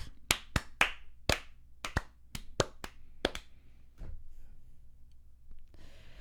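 A single pair of hands claps about a dozen times, sharp and close, in an uneven burst that then stops, leaving near silence with a faint rustle at the end.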